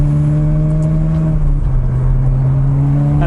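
A Ferrari 360 engine revs loudly nearby, a strong droning tone that climbs slightly and then settles into a steady high idle, with no talking over it.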